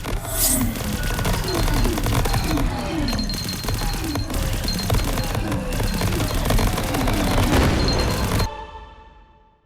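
Dense gunfire and explosions in the video game Greedland, a busy, loud barrage of shots and crashes layered over game sound, running steadily before cutting off abruptly near the end.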